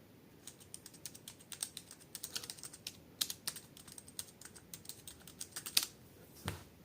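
Quick, light clicking of keys tapped in uneven bursts on a tablet keyboard, close and fairly quiet, with a slightly louder tap near the end.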